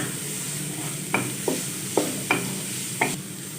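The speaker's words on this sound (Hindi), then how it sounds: "अच्छे से फ्राई कर लेंगे।" Chopped carrots and finely diced onion sizzle softly in a pan while a spoon scrapes and stirs in a handful of sharp, separate strokes over the steady frying hiss.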